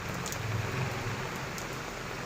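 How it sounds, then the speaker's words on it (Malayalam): Heavy rain pours steadily around a house and garden with plants, a dense, even hiss of drops close by that carries on without break and with no voices. "ഇതൊക്കെ ബിക്കോസ് നല്ല മഴയാണ് ഇവിടെ"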